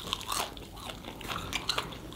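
Several close, crisp bites and crunches into a fried Jack in the Box jalapeno popper, quick crackling bursts spread through a short quiet moment with no talking.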